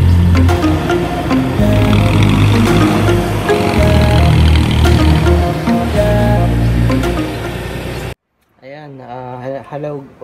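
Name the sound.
1991 Daihatsu Charade car engine idling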